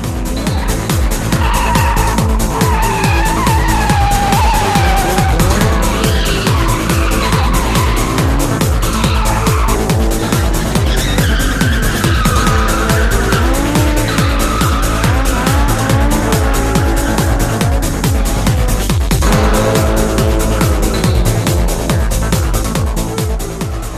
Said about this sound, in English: makes the drivers want to show off their drifting even more